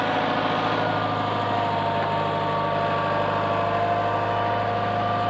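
An old International Harvester 3500A backhoe-loader engine idles steadily with a constant, even drone and a slight knocking rumble. It is close and unbroken, with no voices.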